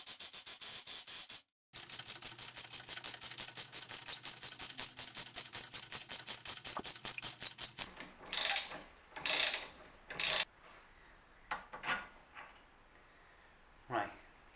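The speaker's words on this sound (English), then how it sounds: "We're going to be taking these lower bars off, so I need to get this bolt out." A hand ratchet on a tough suspension bolt under a Mini R56 gives a fast, regular run of close clicks, then slower bursts of clicking and grinding as the bolt loosens.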